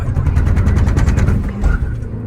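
Hyundai Verna turbo manual 2024 with stage 1 tune doing a launch start from 3000 rpm with traction control off, a loud close engine roar and rumble that briefly dips before surging again.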